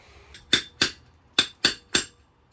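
Five sharp hammer taps on a seal installation tool driving a seal on a Dana 70 rear axle until it bottoms out, with a ringing, clinking metal edge, evenly spaced in two groups, close and fairly loud with quiet between.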